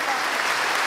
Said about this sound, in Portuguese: Uma salva de palmas, então,